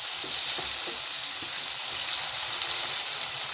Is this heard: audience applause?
no